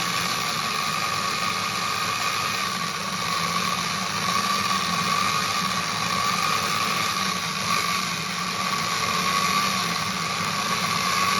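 A Soviet electric drill bores into hardened steel at low speed, giving a steady, loud high-pitched motor whine with a constant grinding hiss throughout, no voices over it.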